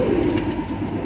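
Domestic pigeons kept by a breeder coo in a low, soft, rolling murmur, close by and continuous through the brief moment with no one talking.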